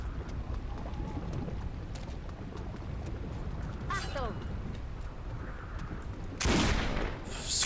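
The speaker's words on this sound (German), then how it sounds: "Boah, wir schießen echt schnell mittlerweile." Rapid gunfire from a magic thunder weapon in the fantasy video game Risen 3, a few sharp bursts over a busy, noisy game background with a louder crack near the end.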